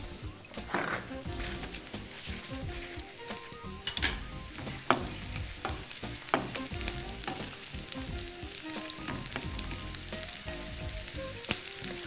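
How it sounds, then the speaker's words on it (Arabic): Onions sautéing in a pan for a minced-meatball tagine make a dense, close sizzle that runs steadily, dotted with small crackles and occasional utensil ticks. "والبصل بيتشوح بس انا عايزاه يتشوح كمان شويه"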